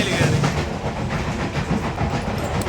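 A passenger train rolls through Andhra Pradesh, heard from on board as a loud continuous rumble with faint rhythmic rail clatter and no clear speech.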